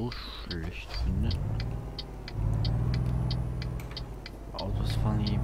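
Cars driving past in Euro Truck Simulator 2, a steady engine rumble that swells and recedes as vehicles pass, heard under someone talking in German.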